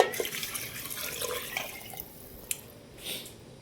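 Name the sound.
water poured into chicken biryani pot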